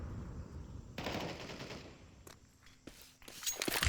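Short bursts of rapid gunfire in a shooter video game, crackling sharply and growing louder near the end, over quiet background noise.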